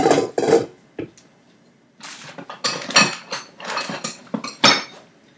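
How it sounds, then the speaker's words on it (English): A metal whisk attachment is fitted onto a stand mixer, giving a series of sharp metallic clanks and clicks in separate bursts with short pauses, close and fairly loud, no talk. "So I have my whisk attachment here, and I am just gonna attach it to the mixer."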